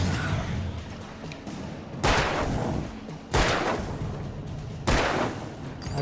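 Gunshots in the video game Alan Wake, three loud, close, booming shots spaced a second or more apart, each trailing off over a low rumbling background.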